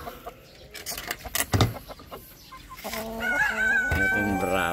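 In a small backyard coop, silver lace and chocolate Orpington chickens cluck in short bursts, then a rooster crows a long, drawn-out call nearby, with other clucks and faint voices around it.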